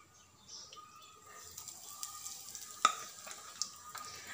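Mustard seeds and asafoetida in hot oil give a faint, quiet sizzle with scattered crackles and a sharp pop, and birds chirp softly in the background.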